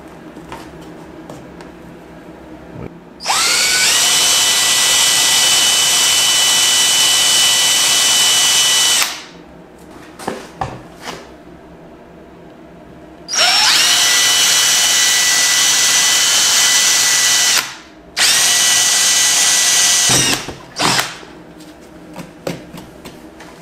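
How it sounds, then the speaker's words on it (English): A power drill whines loudly in two long bursts drilling holes in a 2018 Polaris for a power port install, revving up and holding steady, with quieter clatter and handling noise between runs. "We're gonna drill these two holes."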